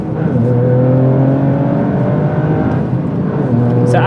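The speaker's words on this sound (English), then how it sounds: "So you've got the intake noises from the front and the Acra noises out of the rear." A Toyota GR Yaris with an Akrapovič titanium exhaust and intake revs up, its loud, close, throaty engine note rising steadily in pitch across a few seconds, with intake noise layered over the exhaust.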